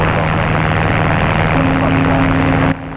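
A small propeller airplane in flight on the way back toward Mason Airport, heard from inside as a loud, constant engine drone with a steady propeller hum that cuts out abruptly near the end.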